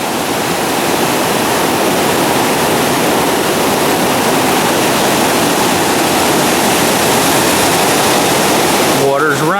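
A waterfall seen from an RV campsite at Blue River roars as a loud, continuous broadband rush of falling water, steady and close, with a brief voice near the end.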